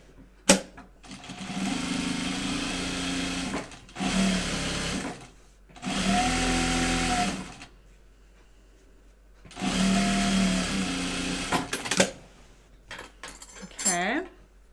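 A sewing machine edge-stitches a prototype bag in several separate whirring runs of a few seconds each, close by, with quiet gaps between them and a short clatter at the end.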